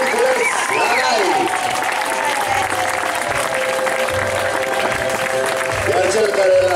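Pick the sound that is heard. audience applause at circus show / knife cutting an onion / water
audience applause at circus show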